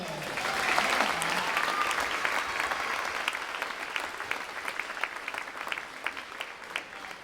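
Concert audience at a school spring band concert applauding a clarinet section player, dense sustained clapping from many hands that thins into scattered claps toward the end.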